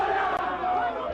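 Football fans packing Brinco de Ouro stadium, 19,700 strong: a loud, sustained roar of crowd chanting and cheering, close and continuous through the brief moment.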